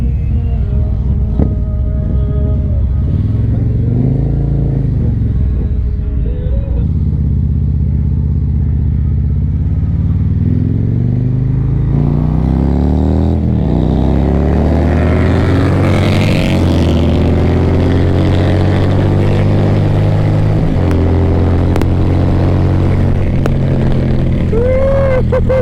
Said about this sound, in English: y'all hear that bike back there?